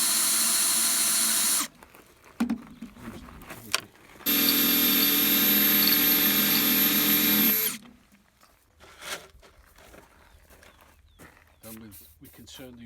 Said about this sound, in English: try and drill the screws up